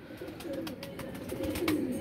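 Pigeons kept by a fancier coo softly and continuously, a low throaty burble with brief wing or shuffling noises, moderately near and alone without talk.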